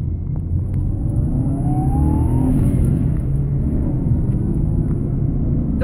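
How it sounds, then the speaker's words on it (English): A car pulls hard in first gear, its engine note climbing steadily under a constant road rumble, loud and close with no talking. "First gear pull."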